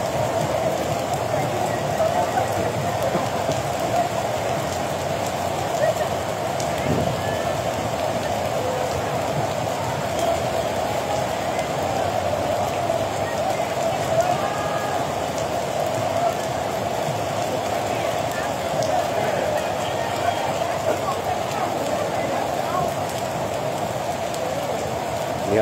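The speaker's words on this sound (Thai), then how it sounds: "ผมถ่ายทอดสดตอนนี้ฝนเริ่มลงมาหน่อยแล้วครับผม" Steady rain falls outdoors during a live broadcast of a religious procession in Pang Li village, a continuous even hiss throughout with someone talking over it.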